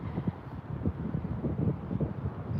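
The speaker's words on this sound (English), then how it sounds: "It is windy." Steady wind buffets the microphone outdoors on a spring walk, a continuous low rumble with gusty surges and no talking.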